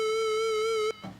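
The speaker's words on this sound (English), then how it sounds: "and we have a square wave." FamiSynth 8-bit synthesizer square wave: a single loud, bright, reedy chiptune tone held steadily for under a second, then cut off sharply into near silence.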